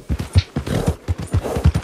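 Horse hooves clip-clop in the Red Dead Redemption II game, a quick close run of about a dozen hollow thuds in an uneven trotting rhythm, alone and loud.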